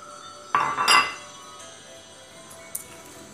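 A metal utensil stirs butter in a pot while bengkang ubi kayu is being made: a short burst of bright clinks and scrapes against the pot, followed by a quieter stretch and one faint final tap.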